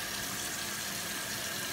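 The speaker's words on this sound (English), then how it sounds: "So, I'm gonna run the water till it's hot. And you're gonna put your sink stopper in." Tap water runs steadily into a stoppered kitchen sink while dishes are hand washed, a constant hiss of flow near and fairly quiet with no talk.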